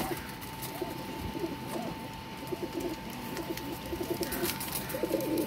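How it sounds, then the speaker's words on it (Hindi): Golden pigeons cooing steadily in a loft, several low soft coos repeating over a constant background hum, with no talk. "ये गोल्डन कबूतर का भी माशाल्लाह शौक़ कर लें।"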